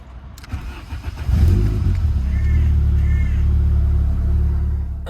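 A VW Corrado engine idles, then swells into a louder, steady low rumble as the car pulls away and cruises, close and sustained with no talk.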